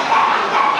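Dog at a world dog show in Shanghai gives short, yappy barks and whimpers, loud and close, packed into under a second.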